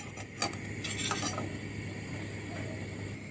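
Scraping and stirring flour dry-roasting in a pan without oil, with a few brief metallic clinks from a utensil near the start, then a quieter steady rasp.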